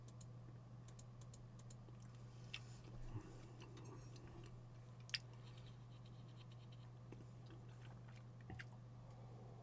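Someone eats sandwiches with kefir close to the mic, with soft steady chewing and a few small ticks and clicks over a low constant hum, quiet throughout and with no talking.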